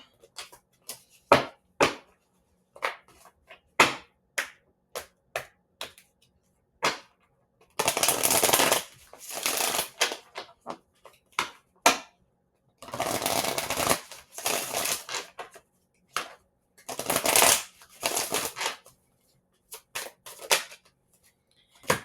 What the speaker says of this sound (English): let's pull a Life Happens card